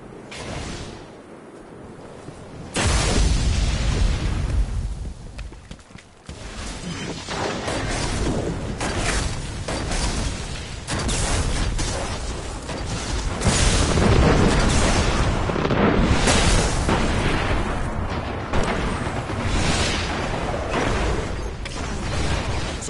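Heavy ammunition explosions in a PS4 video game roll out as loud, dense, continuous booms and rumbling blasts that begin after a quieter opening and hold strongly throughout.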